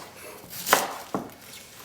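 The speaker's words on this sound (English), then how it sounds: "put the cabbage down on its cut side and just start chopping" Two quick knife chops crunch through cabbage on a board, close and fairly soft, the second following shortly after the first.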